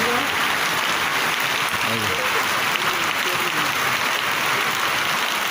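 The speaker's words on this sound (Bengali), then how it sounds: "একটু আবার বাড়ল মনে হয় বৃষ্টি, দেখতে পাচ্ছেন" Heavy rain pours steadily during a downpour, a dense and constant hiss of falling water with no break, while a voice talks faintly underneath.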